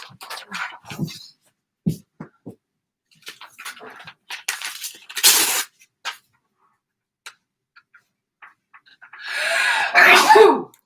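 A sharp burst near the end that could be a sneeze, after scattered small clicks and rustles; loud and close, standing alone.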